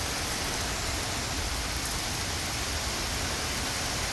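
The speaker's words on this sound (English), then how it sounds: "It's raining." Rain falls steadily, a dense even hiss that stays loud and unbroken from start to finish, with no voices.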